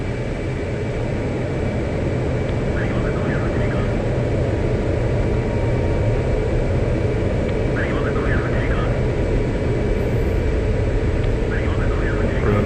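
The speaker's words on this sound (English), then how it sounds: "Request takeoff." Jet aircraft taking off in the DCS World flight simulator, a steady loud broadband engine roar throughout, with voices talking over it.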